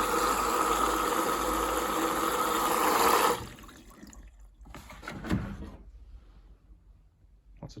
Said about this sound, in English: The pump has stopped. Water's coming in.